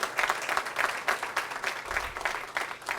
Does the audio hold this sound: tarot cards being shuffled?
no